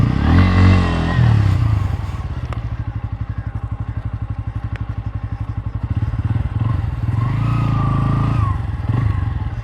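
A Bajaj Pulsar motorcycle engine revs hard during a wheelie. A loud throttle surge gives way to a fast, pulsing, idling thrum, then the engine climbs again into another rev near the end.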